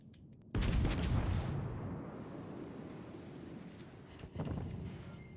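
A ship's broadside booms in a naval battle video game, a loud broad blast that then rumbles and decays for several seconds before a second, slightly weaker blast near the end.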